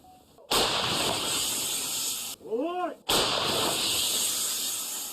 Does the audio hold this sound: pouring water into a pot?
no